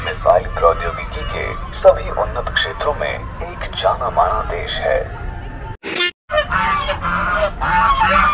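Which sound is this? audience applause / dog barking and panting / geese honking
geese honking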